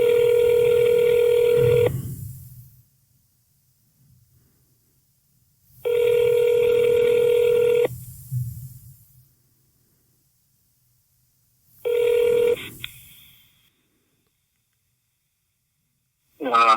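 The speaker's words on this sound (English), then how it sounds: "I did find a phone number here at the bottom. I don't know what'll happen, but we can try to dial it." A telephone number is punched in, followed by a ringback tone sounding in three evenly spaced bursts of about two seconds each, with quiet gaps between them and a brief snatch of voice right at the end.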